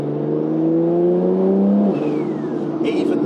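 A 1500 bhp Porsche 992 Turbo S engine revs from inside the cabin, a steady rising drone with a shift in pitch partway through, loud and close, with a voice talking over it.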